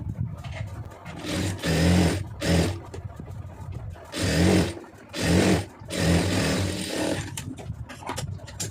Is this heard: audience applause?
no